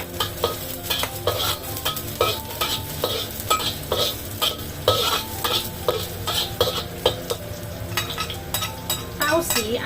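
Ginger and garlic stir-fried in a hot wok, a loud close sizzle with rhythmic scraping and clanking of a spatula against the pan, no voices.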